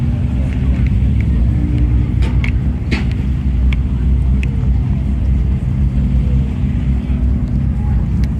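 A rally car engine at the Goodwood Festival of Speed hillclimb, likely an iconic Audi or Lancia, drones as a loud, steady low rumble throughout, joined by a few sharp clicks and knocks.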